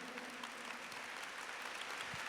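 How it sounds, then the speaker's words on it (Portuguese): Church congregation applauding, an even continuous patter of many hands clapping, fairly faint and distant, steady throughout without voices standing out. "Então aplauda mais ainda."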